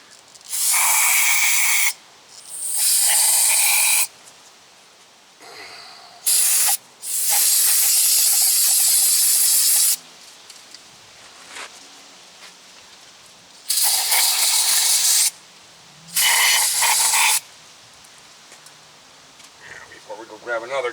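Aerosol can of cleaner spraying brake parts on a 2004 Sierra 2500 rear brake job, several loud hissing bursts of varying length with short gaps, close to the microphone, a voice talking in the background.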